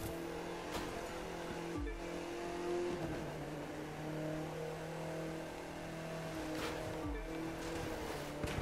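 Steady engine drone from a car sliding into a drift in The Crew 2, a sustained mid-volume hum with shifting pitch and a couple of brief whooshes, no talking.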